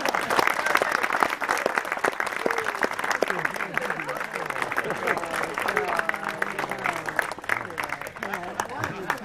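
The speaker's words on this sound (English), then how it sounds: "So please give them a round of applause." An audience at a Mississippi Blues Trail marker dedication breaks into sustained applause, dense clapping throughout, with voices talking and calling out underneath.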